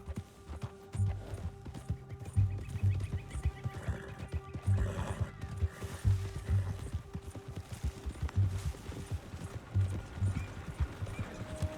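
A horse whinnies and its hooves clip-clop in Red Dead Redemption 2, with a rhythmic trotting beat and repeated neighs heard close over game ambience.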